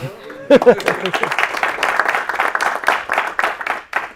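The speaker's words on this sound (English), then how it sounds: "That's an applause." An audience at the Cardano Summit livestream in Oslo applauds with steady, dense clapping that begins with a couple of loud claps and continues evenly throughout.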